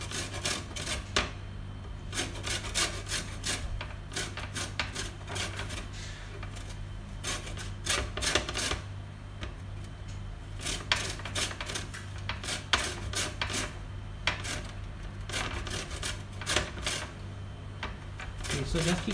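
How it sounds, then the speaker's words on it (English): Ingredients for apple mint soda are grated with rhythmic rasping strokes, repeated steadily in bursts over a low constant hum, close and moderately loud. "just keep grating, do not be worried"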